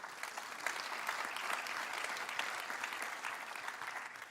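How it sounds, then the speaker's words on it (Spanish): Church congregation applauding at a Spanish-language Sunday service, a dense, steady wash of clapping from many hands that carries evenly through the whole stretch with no voices rising above it. "Den un aplauso a Dios por eso."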